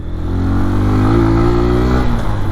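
A Bajaj Pulsar N125 motorcycle engine revs steadily, its pitch climbing gradually and then dropping away near the end, loud and close with no talking.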